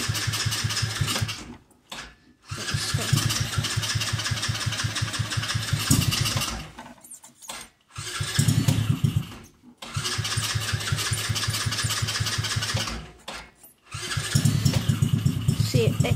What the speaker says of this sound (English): Now it starts up good